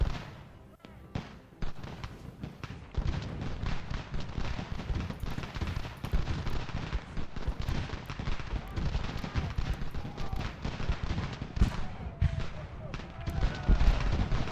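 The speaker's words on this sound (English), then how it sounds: "Their artillery firing?" Continuous battlefield gunfire and cannon-like booms from artillery in Ultimate General: American Revolution, a dense, rolling stream of blasts and crackling shots with a commander's voice talking over it.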